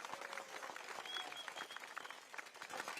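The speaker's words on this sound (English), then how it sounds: "Can we have another round of applause for the speakers that came up on stage just now?" An audience at a Progress Singapore Party rally at Catholic High School claps in a sustained round of fairly distant applause, a dense even patter of many hands.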